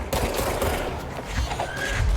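Enemy guards firing guns in the video game Control; a dense, continuous spray of shots at moderate distance, steady and noisy for the whole stretch with no talk.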